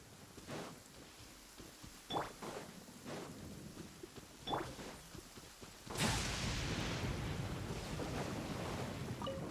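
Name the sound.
thunder after lightning flash in Genshin Impact video game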